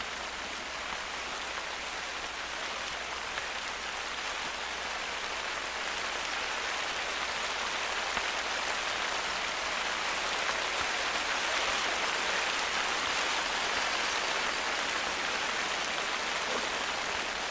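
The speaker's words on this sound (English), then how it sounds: "Not in this friggin' rain." Steady rainfall in the hunting game theHunter: Call of the Wild, a constant dense hiss of drops on surfaces, even and unbroken throughout with no talk.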